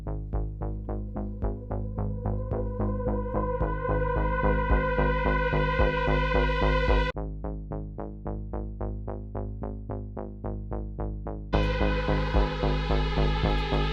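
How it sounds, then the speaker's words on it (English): A synthesizer pulse wave pulses in a steady, rapid rhythmic pattern of repeated notes, bright and upfront, with the tone briefly shifting partway through before resuming; no voices. "Just pretty much a pulse wave."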